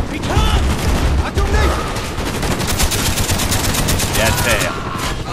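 Dense automatic gunfire and explosions in the Vietnam War campaign of Call of Duty Black Ops, loud, continuous bursts with booming impacts throughout.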